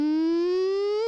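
A beatboxer imitates a siren with a hummed falsetto: one short, loud, pure-sounding tone gliding slowly upward, alone.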